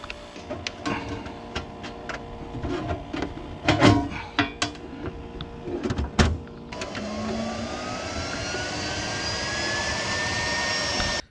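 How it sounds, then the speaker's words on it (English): Clattering mechanical noises give way to a steady, fairly loud whirring hum with a rising whine, an Aqua Hot hydronic heater in an RV starting its burner and fan and running continuously. "with a little luck, you'll hear the Aqua Hot running here shortly"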